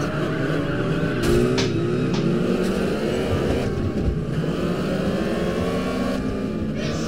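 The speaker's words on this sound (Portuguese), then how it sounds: "Isso aí que vocês ouviram, esse barulho foi o pedal engarranchando aqui." Steady engine and tire noise from a racing game played with a steering wheel and pedals, Test Drive Unlimited, with a few brief sharp clicks and scrapes from the pedal jamming over the continuous drone.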